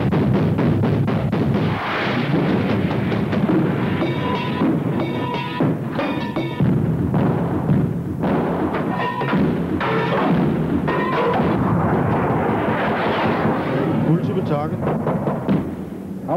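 Artillery firing amid voices on a radio or in a crew, heavy booms and thuds under near-constant talk, loud and rolling throughout.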